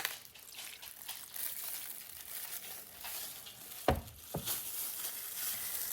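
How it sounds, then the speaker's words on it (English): Soy sauce poured into a sizzling pan of tofu and zucchini, with a steady frying hiss and a short liquid splash and trickle near the middle, close and fairly clear. "I'm gonna add some soy sauce."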